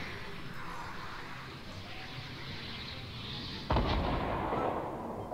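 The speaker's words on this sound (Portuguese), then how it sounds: "tá tendo tiro da prisão" Gunfire from the Fortnite battle royale game, a steady rumbling barrage with a sharp loud shot near the end, continuing without talk.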